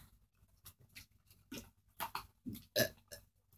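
Several short burps during a burping challenge, quiet and close, coming as separate bursts with small rustles and breaths between them.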